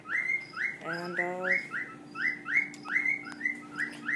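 A pet bird chirps in rapid repeated bursts of sharp whistled calls close by, with a brief lower trill partway through and a steady hum behind it, in a room where a water dragon tank is kept; a single word of speech slips in.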